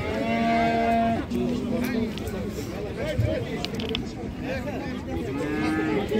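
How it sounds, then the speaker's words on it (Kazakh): A young male calf moos loudly and close by, amid a livestock market with creaking metal, clanking gear and people talking in the background. "Еркек бұзау."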